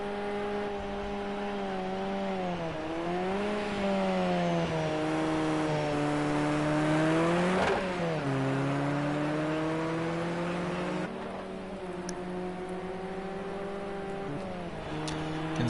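KTM X-Bow race cars lapping a track in Austria, engines droning and rising and falling in pitch as they accelerate and shift, one car loud and close with others fainter behind it.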